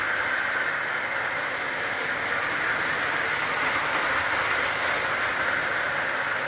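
A model Great Northern freight train, freshly repaired and pulling three box cars, runs steadily along its track, a continuous whirring hum with faint clicking, unchanging throughout and without voices.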